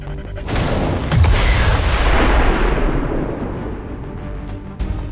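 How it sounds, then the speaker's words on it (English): A big explosion in XCOM 2 bursts loudly, then a heavy booming rumble rolls on and slowly fades, with a sharp crack near the end. "One hell of an explosion right there."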